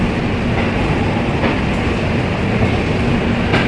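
Train 15078 pulls out of Gomti Nagar railway station in Lucknow with a loud, steady rumble and a faint rhythmic clickety-clack of wheels on rails.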